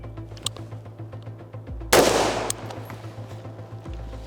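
A single loud gunshot fired at a target three yards away, a sharp burst standing out against a low steady background hum with no talking.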